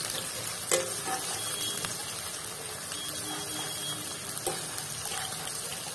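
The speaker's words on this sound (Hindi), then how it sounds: "3 बड़ा साइज ओनियन को हमने कट करके लिया था। इसी ऑयल में ऐड करते हुए अच्छा से ब्राउन होने तक फ्राई करेंगे।" Chopped onions frying in oil in a pan, a soft continuous sizzle with scraping stirs and a few light clinks, fairly quiet and close.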